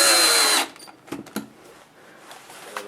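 Power drill driving a screw through 1/8 inch plywood, a loud high whine at first that cuts off, followed by a few brief knocks and quiet shuffling.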